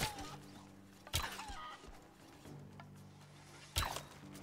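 Chickens cluck repeatedly in the video game Rise of the Tomb Raider, with two sharper squawks standing out over a low synthetic background drone.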